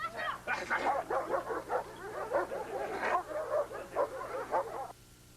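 A German Shepherd guarding its family barks and yips in a rapid, insistent string of loud, close barks, then falls quiet at the end.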